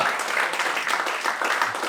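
An audience at a comedy roast battle applauds, a dense, continuous wash of clapping at moderate loudness.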